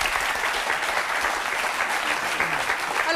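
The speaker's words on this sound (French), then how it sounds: "On les applaudit très fort et on les laisse aller travailler maintenant." Studio audience applauds loudly on a French television talk show, a dense steady wash of many hands clapping throughout, with a faint voice near the end.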